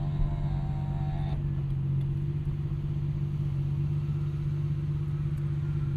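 A 1999 Nissan Skyline R34 GT-R twin turbo cruises casually with the windows down, giving a steady low engine rumble and road noise inside the cabin, with no change in pace.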